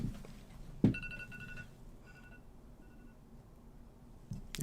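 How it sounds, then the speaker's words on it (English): A phone alarm goes off, a short repeating electronic tone pattern that starts with a sudden bump, then tapers and pauses before sounding again at the end, fairly quiet against a low room background. "Alarm on my phone went off."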